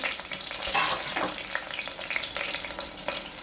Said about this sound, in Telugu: ఉల్లిపాయలు, ఇట్లా ఆయిల్లో ఫ్రై అవ్వనివ్వాలి.